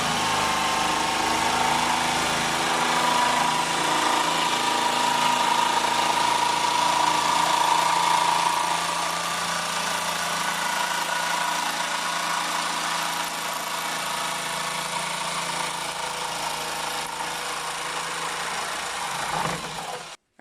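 A power tool cuts through a thick Lexan sheet for a windshield, giving a steady, continuous motor drone that stays loud and unbroken for the whole stretch before cutting off abruptly at the end.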